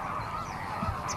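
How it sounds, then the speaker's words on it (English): Common cranes call at Lake Tana in Ethiopia, a dense, continuous honking chorus from a flock at moderate distance, with no voices. "birds from Europe, like these cranes, spend part of the year there"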